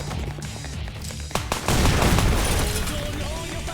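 Gunfire from a gun in the video game Let It Die, a couple of sharp shots followed by a loud sustained barrage with booming impacts, close and heavy.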